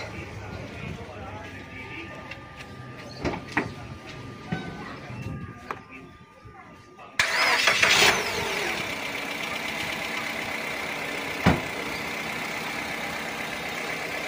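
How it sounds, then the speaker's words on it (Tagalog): Voices and clatter, then a Mitsubishi Xpander's engine with a low battery, jump-started by a portable igniter, abruptly cranks and catches partway through, settling into a steady, loud idle that continues to the end. "Start agad yung makina gamit lang tong ano natin, itong car igniter"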